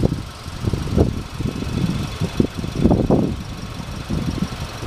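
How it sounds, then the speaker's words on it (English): A car engine ticks over quietly at idle, a low uneven rumble with soft repeated pulses and faint mechanical knocks, close by and not overlaid by talk. "The car is running. That's how quiet it is."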